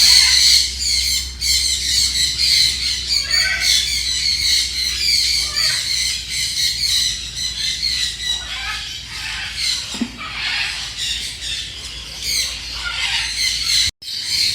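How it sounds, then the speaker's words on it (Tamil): Many lovebirds squawk and screech continuously, shrill and close, a dense chattering flock with a brief thump near the end, at a bird park in Hambantota, Sri Lanka. "இதெல்லாம் சிறிய சிறிய லவ் பேர்ட்ஸ் பறவைகள்."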